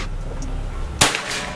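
One sharp, sudden crack of a PCP air rifle shot with a slug barrel, around 1018 FPS, breaks a quiet background and decays quickly.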